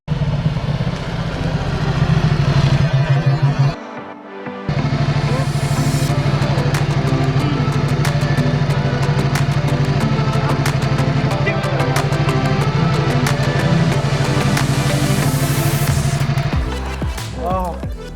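A Ducati motorcycle with Skyhook suspension runs a test lap, its engine a steady loud drone with a brief dip and gap early on, then holding a sustained note before tailing off near the end.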